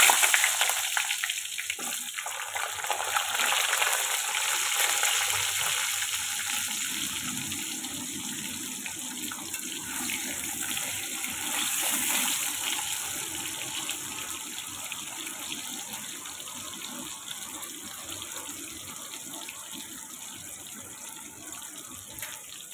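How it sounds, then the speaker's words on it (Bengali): Pieces of pointed gourd (potol) fry in hot oil with a steady, close hiss that continues throughout and softens slightly toward the end. "তেল তো গরম হয়ে গেছে, এবারে এক এক করে পটলগুলো একটু ভেজে নেব।"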